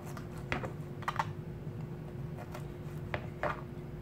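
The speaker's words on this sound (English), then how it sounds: "you just want to cut it into however thick you want your calamari to be. Into our rings, about that thick." A sharp knife slices squid into calamari rings on a board, producing soft, evenly spaced taps against a steady background hum.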